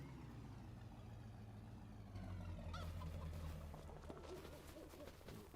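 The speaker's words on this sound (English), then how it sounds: "Yards with chickens and..." Chickens in a farmyard in Farming Simulator 25, clucking and gobbling calls under a steady low engine-like hum, moderately distant and quiet.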